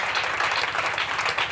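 A church congregation applauds during a Sunday evening sermon, a dense, even patter of many hands clapping together, sustained and fairly loud.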